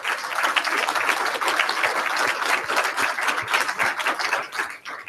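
An audience at an Innovation Day event applauding 24 companies, lively clapping with distinct individual claps in a crowd, swelling and dipping slightly over five seconds, with no speech.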